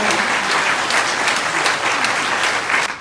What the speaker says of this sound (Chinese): 我们掌声谢谢张俊彦院长的贡献，也恭喜沈元胜院长就任。